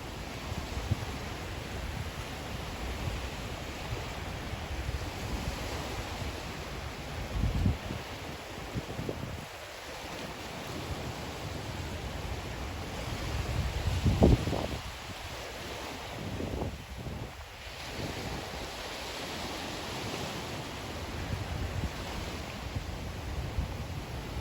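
Ocean surf rolls steadily onto Fort Myers Beach on a morning walk, a continuous broadband wash with wind buffeting the microphone and a brief louder gust or wave break midway; no one speaks.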